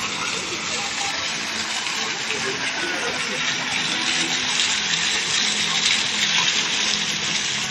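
Water gushes steadily at Catbalogan City plaza, a continuous broadband rush that stays loud and even throughout, heard close outdoors with no talk.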